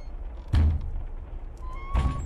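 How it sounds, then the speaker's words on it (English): In a dark video game building, two dull bangs land roughly a second and a half apart, with small knocks and a faint tone between them over a low, quiet background. "There's so many things banging around here."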